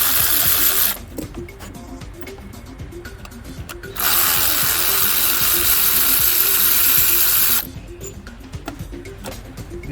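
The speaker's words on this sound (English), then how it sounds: "we're gonna take these 8mm loose, but we're gonna break the bolts" A hand ratchet clicks away at 8mm bolts on the high-pressure fuel pump of a 2015 Ford Fusion EcoBoost, a close, rapid, steady pawl chatter with two long, louder stretches of continuous clicking.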